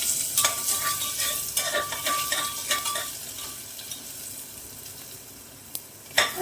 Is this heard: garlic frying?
yes